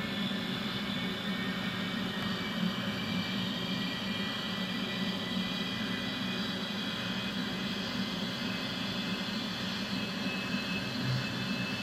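An F-16 jet engine in the Falcon 4.0 simulator hums and whines steadily as its RPM spools up, a continuous, even drone with no talk over it.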